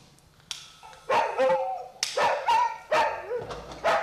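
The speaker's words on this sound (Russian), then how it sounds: "Подсказкой служит лай собаки, единственный в этом подъезде." A dog barks repeatedly in an apartment building stairwell, several loud yips and barks in an irregular rhythm that echo close by, with some faint talk.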